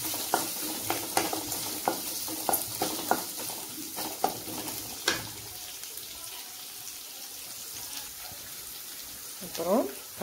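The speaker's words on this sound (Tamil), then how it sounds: "வெங்காயத்தை நல்லா வதக்கிக்கலாம்." Chopped onions with curry leaves and popped mustard seeds sauté in a pan, sizzling steadily as a spoon scrapes and stirs in regular taps. The sizzle fades toward the end, and a voice speaks softly in the background.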